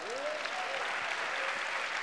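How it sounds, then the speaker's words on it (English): Steady applause from a large audience at a talk by a college football head coach, a dense, even wash of clapping with faint voices mixed in. "So right then, you should give yourself a round of applause."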